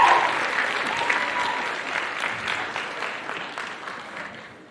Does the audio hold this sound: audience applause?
yes